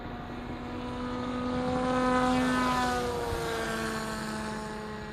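An RC model plane, a Nuri Knurrus Maximus, drones overhead with a buzzing propeller motor at throttle, its pitch sliding as it sweeps past and growing louder, then easing off. No voices.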